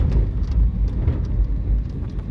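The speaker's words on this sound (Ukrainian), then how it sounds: "Бачиш, машина їде навстрічу." An oncoming car passing on the road, heard as a low, steady rumble of engine and tyre noise that holds throughout without any voices.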